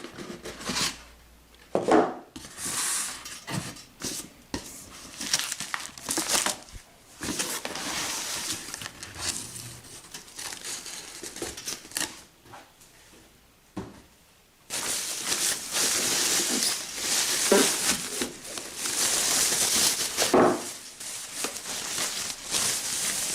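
A new Breville VTR003 toaster comes out of its box: cardboard and plastic packaging crinkle, rustle and scrape up close in irregular bursts, louder and denser toward the end, with no talking.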